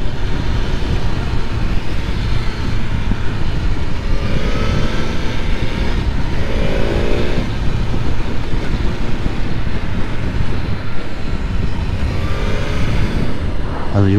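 A BMW S1000R roadster motorcycle out on the road, its engine and wind roar loud and steady throughout with no break.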